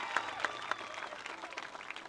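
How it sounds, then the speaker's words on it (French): Audience applause for the twelve candidates at a Mister Guadeloupe pageant presentation ceremony: faint, scattered clapping with a few sharper claps standing out, heard at a distance. "Merci d'applaudir encore ces candidats, ces 12 candidats qui veulent représenter la Guadeloupe."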